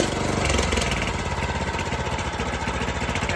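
Predator 301 engine swapped into a Yamaha Warrior, running steadily with a fast, even exhaust putter from an exhaust blowing onto the frame, close and continuous with no talk.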